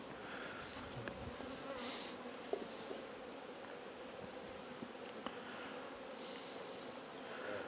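A steady drone of many honeybees buzzing close by, continuous and even, with occasional louder passes of individual bees.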